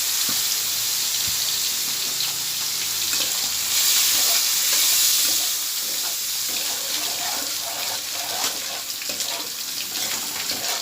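Cumin powder and spices fry in a pan with a splash of water for a pomfret fish curry, giving a loud, continuous sizzle with faint stirring scrapes throughout.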